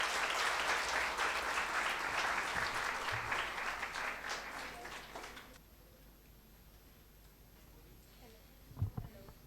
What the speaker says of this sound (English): Please give them a huge round of applause.